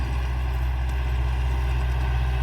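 Small tractor engine idling in a rice-field setting, a steady low chugging drone with a regular pulsing rhythm, close and continuous throughout with no talk.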